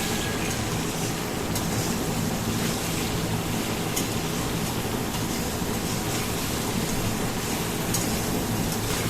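Potatoes and pointed gourd fry in oil with spices, giving a dense, even sizzle that holds unbroken and loud throughout with no pauses, and no voice is heard.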